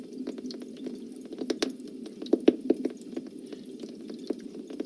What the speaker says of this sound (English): you can hear the molecular hydrogen crackling and popping in the water